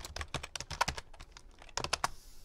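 Typing on a computer keyboard, rapid uneven clusters of crisp key clicks up close, with a short pause in the middle and no one talking.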